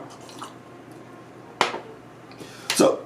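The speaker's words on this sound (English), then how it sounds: "Let me get a drink of water." A drinking glass being handled while getting a drink of water: two sharp clinks with brief splashy rattling, spaced over a quiet room with faint small knocks in between.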